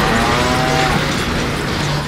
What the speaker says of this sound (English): A cow?